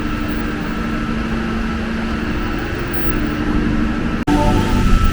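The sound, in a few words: train station platform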